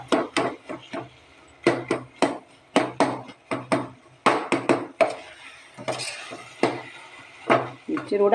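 Homemade banana sughiyan mix of ripe plantain, flattened rice, grated coconut and jaggery being stirred in a pan, with repeated sharp spoon knocks and scrapes against the metal, close and fairly loud, and a brief voice in between.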